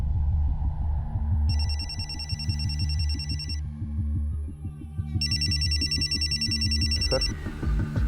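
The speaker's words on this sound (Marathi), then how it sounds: "sir phone वाजतोय" A telephone bell rings in two long bursts separated by a short pause, over a steady background music bed in a TV crime drama scene.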